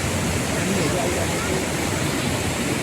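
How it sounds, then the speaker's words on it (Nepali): Khutkhute waterfall in North ABC, at about 3133 metres in the Himalayan mountains, roars as a steady, loud, broadband rush of falling water with no breaks. "हामी छौँ खुतखुते झरना, नर्थ एबिसीको प्रसिद्ध झरना रहेको छ"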